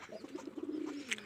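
Domestic local pigeons at a small backyard pigeon farm give soft, low, repeated coos, faint and steady over a quiet background.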